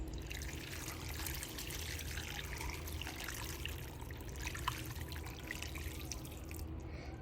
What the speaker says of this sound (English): I'm going to add a lot of boiling water.